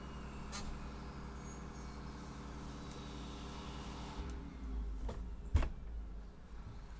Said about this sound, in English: I got a garbage truck going on outside.